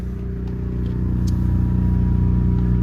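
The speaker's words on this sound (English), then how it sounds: "sorry for the generator noise" A generator drones steadily at close range beside a 2022 Grand Design 28G travel trailer, a low, even engine hum that swells slightly and holds.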